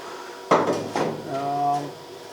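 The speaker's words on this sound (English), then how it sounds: "And as you drive the wedge in the gap, it pulls the plate up onto to meet the flat bar." A steel wedge is hammered into a gap to pull a steel hull plate of a liveaboard trawler up to a flat bar, giving two sharp metallic strikes followed by a brief ringing tone, close and loud.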